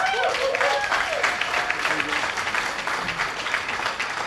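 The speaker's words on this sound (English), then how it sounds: "Round of applause one more time for Dr. Haperin" An audience at a foundation's awards ceremony applauds an honoree, steady clapping filling the room while voices and cheers sound over it at the start.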